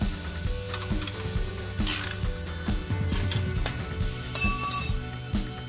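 A ratchet fitted with a 22 mm socket loosens the rear axle nut on a Yamaha Road Star motorcycle. It clicks in quick, close bursts of pawl ticks, with a few metallic clinks and no talking.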